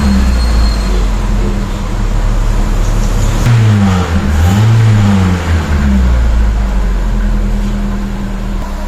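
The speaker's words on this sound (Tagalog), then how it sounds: "So, accelerator po natin. Revolution natin." A Toyota Corolla Altis ninth-generation engine, under repair for an intake manifold gasket replacement, idles loudly, then rises in a clear rev and falls back to a steady idle, recorded close with no talking.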